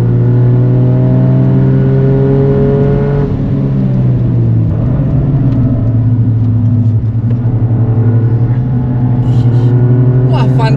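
Toyota GR Yaris on the Mandalika race circuit, engine droning loud and close with a steady rev that dips and recovers mid-lap, a brief voice near the end.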